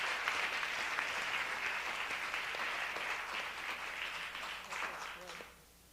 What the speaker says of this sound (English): just maybe we can all give Kathryn a round of applause for these wonderful photographs.